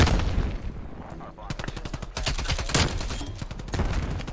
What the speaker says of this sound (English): You gotta think about where you're shooting with the Magnum,